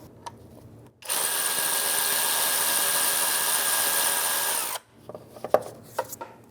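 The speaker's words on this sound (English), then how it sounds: "I'll put the air ratchet on it and take them out" An air ratchet backs out transmission oil pan bolts on a 2011-2016 Hyundai Elantra in one loud, steady burst of about four seconds, set between quieter clinks and handling noises.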